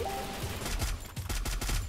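Gunfire in the mobile battle royale game Free Fire, a short burst of several rapid shots in quick succession, loud and close.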